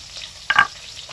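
Ginger, green chilli and cumin fry in a pan, a low background sizzle broken by one brief, sharper crackling burst near the middle; no one speaks.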